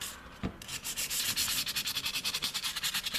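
Coarse 80-grit sandpaper rubs over a knife in quick, rhythmic back-and-forth strokes, a loud, close scratching that repeats steadily throughout with no voices.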